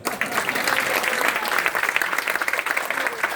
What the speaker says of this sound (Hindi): आप लोग जरा ताली बजा दीजिएगा इस बात पे